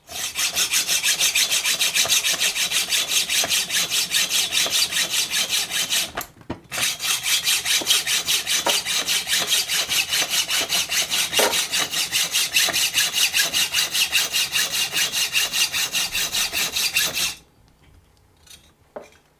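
A hacksaw cuts M5 x 0.9 screws by hand, a close, steady rasping of rapid back-and-forth strokes with a brief pause near six seconds, continuing until the sawing stops near the end.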